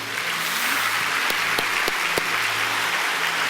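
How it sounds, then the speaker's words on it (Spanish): A church congregation applauds during a Spanish-language sermon, a steady sustained wash of many hands clapping with a few sharper claps standing out near the middle, continuing evenly throughout. "Le da un aplauso a Dios por su misericordia."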